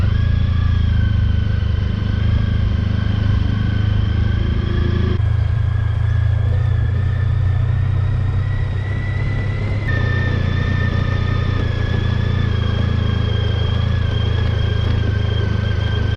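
A motorcycle rides between mountains and a lake along the southern edge of Lake Chapala in Mexico, a steady loud engine drone with a low rumble and wind, holding speed throughout with a couple of slight gear or throttle changes.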